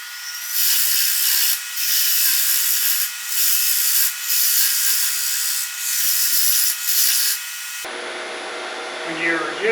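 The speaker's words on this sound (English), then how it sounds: "When you're using a parting tool, you don't want to just go in and you rub your bevel and bring it down" A parting tool cuts into wood spinning on a lathe while a mallet is being turned, giving a loud, steady scraping rasp in repeated bursts with short pauses between passes, then it stops abruptly, leaving quieter workshop sounds.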